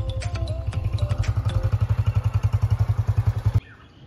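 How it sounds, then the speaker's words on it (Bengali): A motorcycle engine thumps in a steady, rapid, loud, close putter for about three and a half seconds, then cuts off abruptly, leaving only quiet background. "ওই যে বাইকের আওয়াজ পায় আসছে"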